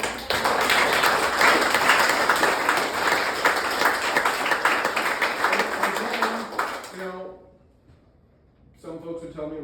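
An audience claps steadily at a town hall meeting in Osceola, a dense, even round of applause that fades out, followed by a brief pause and then a voice.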